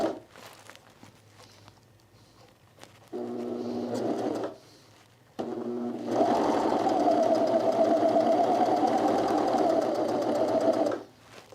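A sewing machine stitching an Azores dress from Itch to Stitch Designs gives a short whirring run, pauses, then a longer steady buzzing run of several seconds, close and alone.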